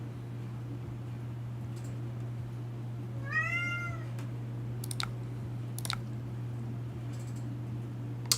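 A sad cat in the back of the room lets out a single drawn-out meow, rising then falling, over a steady low hum with a few scattered clicks afterward.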